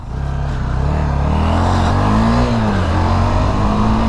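A Honda CB 300F motorcycle engine drones close by, rising steadily in pitch as the bike accelerates along the road.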